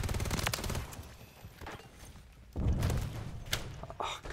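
Sniper gunfire in a Demolition match on the Paris map of a shooter video game, several sharp shots and thumps scattered across the moment, fairly close amid other game noise.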